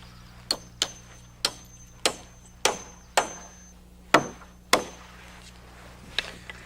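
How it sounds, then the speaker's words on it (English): Hammer blows drive nails into a wooden sway brace on a house roof frame, about ten sharp, separate strikes spaced unevenly over several seconds, fairly close, with no talking. "we nail in a permanent sway brace"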